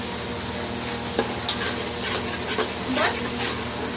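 Sliced onion going into a hot pan of oil for biryani, a continuous hiss of frying with a few stirring scrapes and clinks, while voices talk nearby.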